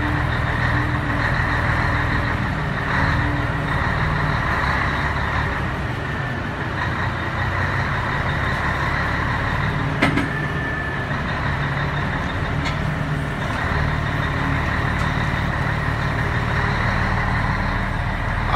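Heavy truck engine rumbling close by at a Brazilian depot yard, a steady low drone holding for the whole stretch with a brief knock midway.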